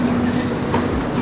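A crowded passenger train near Zermatt, Switzerland, rolls along the rails with a close, steady rumble, a faint hum and light rattling, heard from inside the car.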